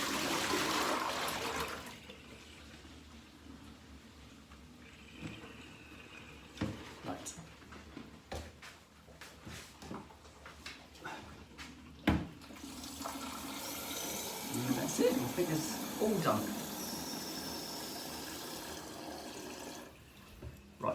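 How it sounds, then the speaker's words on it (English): Tap water runs into a kettle being filled for the next day, a soft steady pour in the latter half after scattered clinks and handling sounds, with a person briefly talking nearby. "I've got to fill the kettle up for tomorrow, so I'll do that now."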